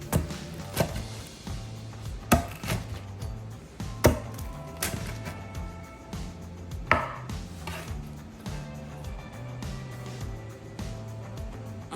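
A big knife slices through a homemade pepperoni pizza baked on a baking steel in a home oven, making repeated sharp, loud chops and taps against a board over a steady musical background.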